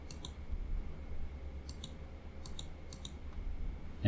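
A number is typed on a computer keyboard: a few crisp, separate key clicks spaced across a quiet room, close and clear with no talking.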